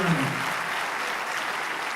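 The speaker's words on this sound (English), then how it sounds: "Wow, round of applause, guys." An audience applauds a guest announced as one of the winners at a motivational passion talk, a steady dense wash of clapping that stays level throughout, with a brief voice at the very start.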